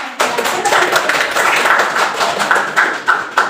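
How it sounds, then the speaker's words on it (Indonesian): Children in a primary school maths classroom clap together for a group that answered correctly, a loud, close, dense round of hand claps with a few sharper accents toward the end. "Beri tepuk tangan untuk"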